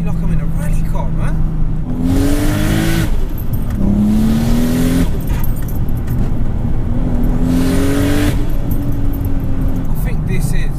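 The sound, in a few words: turbocharged car accelerating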